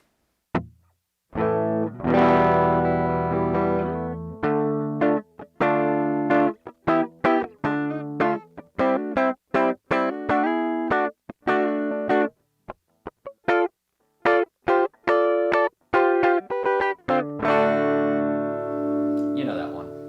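A Gibson electric guitar plays through a tiny $20 Honeytone N-10 mini amp with a delay pedal, with plucked notes and strummed chords ringing out in an uneven phrase, close and fairly loud.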